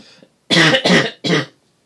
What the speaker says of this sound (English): I cough uncontrollably